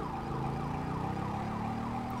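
An ambulance siren in the video game GTA 5 wails steadily in rising and falling sweeps under a low engine drone, moderately loud with no talk.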